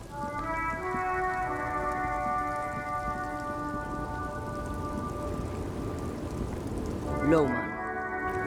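Steady rain from the video game Disco Elysium falls as a continuous hiss throughout, layered under sustained musical tones and soft talk, with a brief swooping sound near the end.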